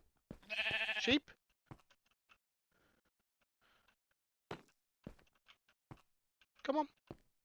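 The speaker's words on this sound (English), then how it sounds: "Sheep?" A Minecraft sheep bleats, one loud wavering bleat followed by a fainter one a few seconds later, with soft game sounds in between.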